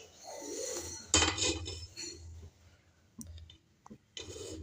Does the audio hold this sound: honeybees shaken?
no